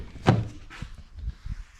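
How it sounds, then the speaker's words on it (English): A Jeep SRT passenger door opens with a sharp mechanical clunk of the latch, followed by a few softer thumps and knocks as it swings, close by and otherwise quiet. "Go ahead and open this door up."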